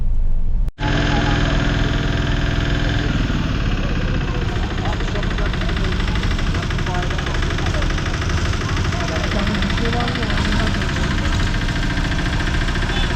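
Small patpat motor vehicles idling on a street in Akçakoca, a steady loud, rough mechanical drone with a rattling, knocking texture that runs continuously after a brief dropout near the start.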